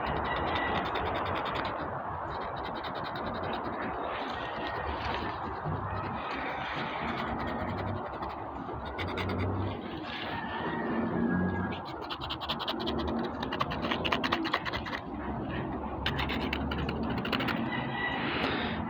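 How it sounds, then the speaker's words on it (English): Knife scraping and shaving bark from a grapevine stem to prepare it for air layering, a steady close rasping scratch running throughout with small fluctuations and no talk. "first what you want to do is shave down this area."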